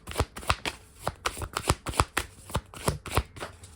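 Tarot cards being shuffled and drawn by hand, a quick run of crisp riffling slaps and flicks repeating in an uneven rhythm, close and clear with no talking.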